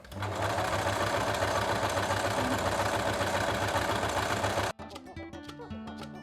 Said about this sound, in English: Next we make a basting stitch all along the bottom edge